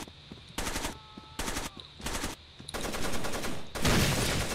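Bursts of automatic gunfire in the Rainbow Six Vegas 2 terrorist hunt co-op game, several loud rapid volleys separated by brief pauses, ending in a longer sustained burst.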